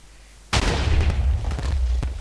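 A sudden loud boom bursts in as a TNT cannon fires in Minecraft, followed by a rumbling blast with a few crackling pops as it dies away.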